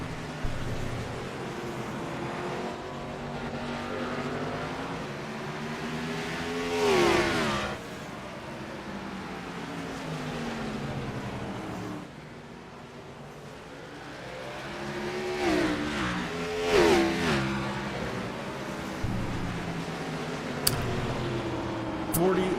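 Simulated stock cars race at Martinsville Speedway in iRacing, engines droning and revving in a close pack with rising and falling pitch sweeps as cars pass, under continuous commentary.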